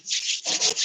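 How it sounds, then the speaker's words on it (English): Hands rub together in a brief, close, dry swishing friction, two quick strokes of soft hiss. "Rubbing your hands together if you want to, just shaking them out."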